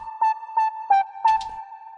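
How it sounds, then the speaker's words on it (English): A flute-like synth pluck lead built from a square and saw wavetable pitched up an octave, with a filter envelope on a low-pass cutoff, playing four breathy, airy notes over a steady sustained tone. "Basically, it's a kind of flute sounding pluck,"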